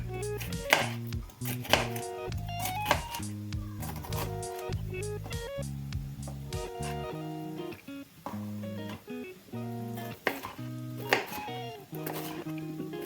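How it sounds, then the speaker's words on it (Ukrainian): A knife chops a bell pepper rapidly on a cutting board in quick, irregular bursts of sharp taps, close by, over soft background music. "Я перець теж буду нарізати кубиками."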